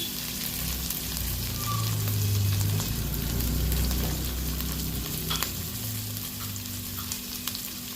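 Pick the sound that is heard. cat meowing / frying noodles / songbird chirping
frying noodles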